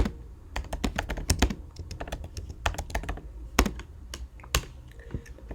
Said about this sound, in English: let's go ahead and type it out